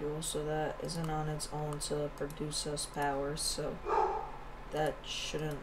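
A dog barks in a series of quick, close barks throughout, mixed with someone talking in an indoor setting.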